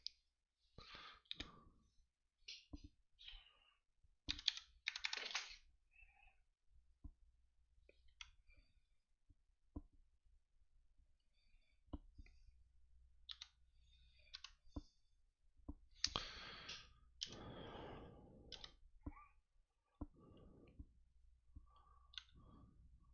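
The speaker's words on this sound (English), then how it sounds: "I'm typing sideways." Sparse, close keyboard clicks come in irregular bursts with long quiet gaps, typed slowly and awkwardly, with occasional breaths and sighs between them.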